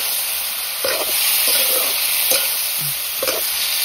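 Pork frying in oil in a pan while being stirred, with a constant loud sizzle and several brief scraping stirs at irregular intervals, no talk.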